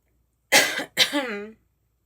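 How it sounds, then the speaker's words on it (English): Two harsh coughs in quick succession, close and loud, the second one trailing off into a throaty rasp. "Excuse me for coughing like that."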